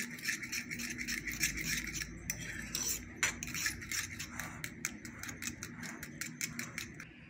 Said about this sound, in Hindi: इसको अच्छे से मिक्स कर लेना आपने।